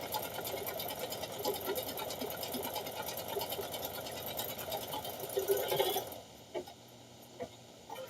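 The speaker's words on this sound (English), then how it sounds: "We're going to run that last stitch." An embroidery machine stitches rapidly with a steady mechanical whir and chatter, then stops and leaves a few light clicks and knocks, close by.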